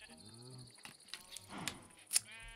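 A cow moos in the video game Minecraft, a low drawn-out call at the start, followed by soft game noises and a sharp click near the end, all at low level.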